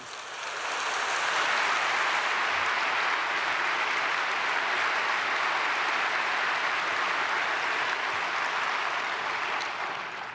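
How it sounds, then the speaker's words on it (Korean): Sustained, loud audience applause fills a Korean church thanksgiving service hall, greeting the culture minister as he comes to the podium; dense steady clapping throughout, fading slightly at the end. "좀 센 박수로 환영해 주시면 좋겠습니다"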